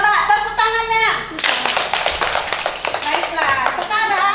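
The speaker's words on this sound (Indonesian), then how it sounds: "Coba tepuk tangannya." Children clapping their hands in a classroom, a burst of loud, fast, uneven claps from a group that follows a spoken adult voice and continues with some chatter underneath.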